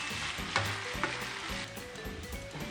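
Shrimp frying in butter in a pan, a continuous crackling sizzle with a couple of sharp stirring scrapes and clinks, close but moderately quiet.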